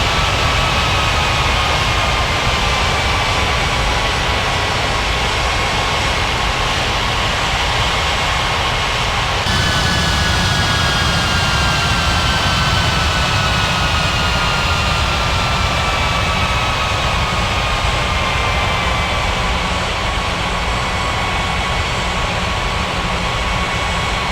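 Jet engines of an airliner taxiing to the runway in an air traffic control video game drone steadily and loudly throughout, with a high whining tone that slowly shifts in pitch.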